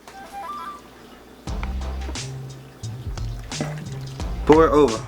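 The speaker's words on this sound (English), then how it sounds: "you just take it and pour it over" Custard poured over pieces of bread for bread pudding gives soft liquid splashing and dripping, with someone talking over it and a few kitchen clatters.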